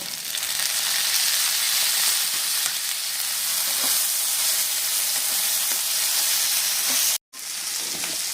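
Chopped medium tomato sizzles in hot oil in a pan for tuna fish curry, a steady loud frying hiss with small crackles and one brief cut near the end.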